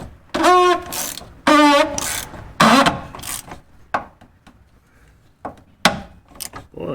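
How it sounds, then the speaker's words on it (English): A ratchet tightens the fuel filter housing on a Jeep Wrangler EcoDiesel in a few loud, close bursts of rapid clicking, followed by scattered softer taps and knocks. "Now we'll get the ratchet out."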